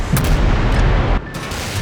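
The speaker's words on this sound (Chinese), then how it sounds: "引发连锁爆炸，最后让整个城市陷入火海。" Chain explosion effect in a TV drama, set off when a dropped cleaning tool falls into a gas passage under construction: a loud, dense burst of booming, crackling blasts that cuts off abruptly and leaves a quieter rumbling tail.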